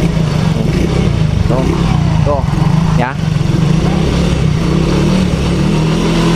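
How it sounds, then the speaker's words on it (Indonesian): Yamaha X-Ride motorcycle engine running steady and close, with a few short throttle rises in pitch over a constant idle hum, while people talk over it. "Jadi putaran mesin dengan gas itu selaras ya, bisa dirasakan."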